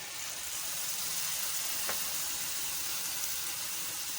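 Tomato puree sizzles in a pan with ginger and garlic, a soft steady hiss with one brief sharper crackle midway, faint and close, with no voices.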